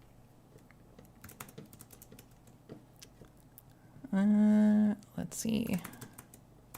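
Computer keyboard typing by someone coding a 3D modeling app, with soft scattered key clicks throughout, a brief loud tonal burst midway, and a few quiet spoken words.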